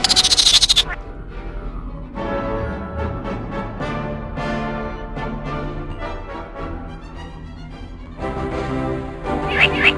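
A frog croaks in long, buzzy, tonal calls that carry loudly and continuously, with brighter bursts at the start and end.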